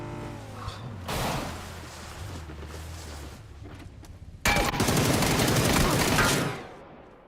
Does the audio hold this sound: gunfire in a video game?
yes